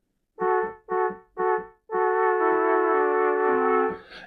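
A vintage Mellotron plays a breathy flute voice in the manner of a famous song intro. Three short sustained notes come first, then a longer held phrase with a gentle downward step. The sound is close and clear, with no talk.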